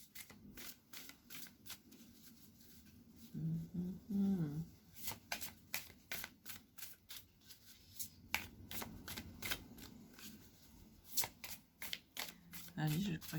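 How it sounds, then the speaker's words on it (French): A deck of oracle cards is shuffled and cut by hand, giving repeated crisp riffling bursts and rapid flicks close to the microphone, with a person talking softly between and over them. "je vais devoir couper le jeu là et piocher"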